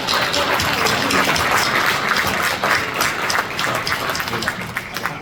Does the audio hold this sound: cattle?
no